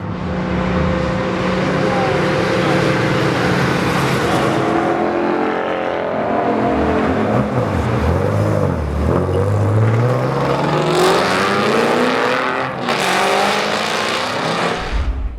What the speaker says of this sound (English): Drivers get to put their Mustangs through their paces around Charlotte Motor Speedway.